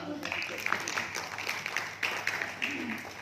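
Audience clapping for a speaker at the end of an interesting session, a dense, steady patter of many hands with occasional louder claps, fairly close and continuous throughout.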